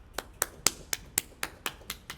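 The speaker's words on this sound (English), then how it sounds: "So could we just take a moment and give them a round of applause?" A small class gives a short round of applause: about nine sparse, separate hand claps spaced evenly, fairly faint with no talk.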